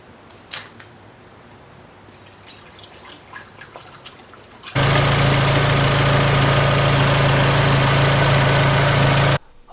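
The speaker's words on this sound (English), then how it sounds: "Alright, so it's idling really nice, it runs well." A 1999 Mazda Miata engine idles after a quiet stretch of faint ticks, coming in loud, close and steady for about five seconds before cutting off abruptly.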